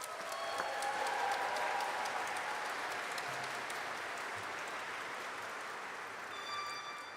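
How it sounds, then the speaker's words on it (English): Sustained audience applause at a Duke Physician Assistant Program hooding and certificate ceremony, a steady wash of many hands clapping that holds evenly for several seconds before easing slightly. "Let's please give them a round of applause."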